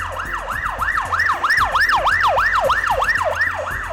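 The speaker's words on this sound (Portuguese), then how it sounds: "a qualquer momento a sirene pode tocar" A loud wailing fire engine siren rises and falls rapidly and continuously, close by, with a fainter echoing layer above it.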